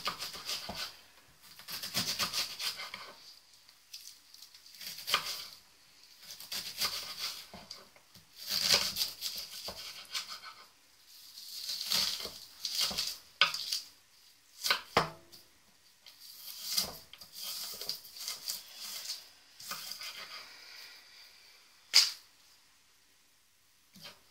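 Repeated knife strokes chopping onions on a board, irregular bursts of scraping and tapping, close up with short pauses between runs.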